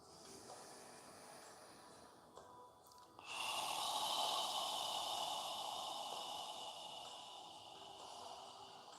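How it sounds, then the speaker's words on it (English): A long, steady breath exhaled through the throat during yoga, like fogging a mirror, rises to a soft, sustained breathy hiss after a quieter inhale and then slowly fades, close and with no talk. "as you exhale, imagine you're fogging a mirror with your breath, the air moving against the back of your throat."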